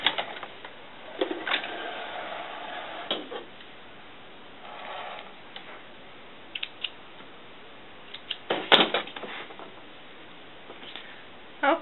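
A sewing machine stitching a line on a doll cover-up gives short bursts of rapid mechanical clatter with pauses between them, close and fairly quiet.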